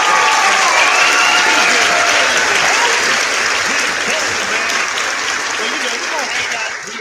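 Loud, sustained crowd applause filling a live sports talk show, dense clapping mixed with cheering voices and crowd chatter throughout, slowly easing off toward the end.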